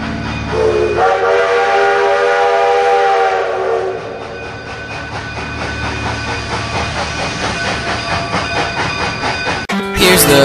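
A train pulls up in a loud, continuous rolling rumble, with sustained whistle-like horn tones layered on top and a sharp clatter near the end.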